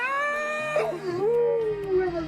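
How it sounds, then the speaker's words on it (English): A dog aboard a Scepter 41 sailboat cruising the Pacific Northwest gives one drawn-out, wavering howl that bends in pitch, loud and close, with no talk over it. "this is Bruce, our boat dog"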